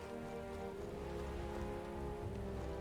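Torrential rain in the video game Metaphor: ReFantazio, a dense, even downpour pattering steadily on surfaces, with faint low rumbling underneath and no voices.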